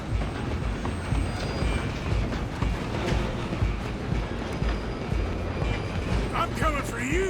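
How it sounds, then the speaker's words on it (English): A steam-era train rolls along in Red Dead Redemption 2, a dense, continuous rumble with rhythmic wheel clatter, while voices shout over it and a brief squeal rises near the end. "You stop them, I'll stop the train."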